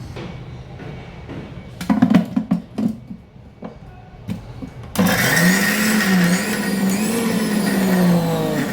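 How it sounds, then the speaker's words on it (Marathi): A mixer grinder coarsely grinds soaked, sprouted green moong; a few clattering knocks of handling come first, then a loud, steady motor whir with churning runs without pause to the end. "ह्याचं झाकण बंद करून हे जाडसर असं मिक्सरला फिरवून घेऊया"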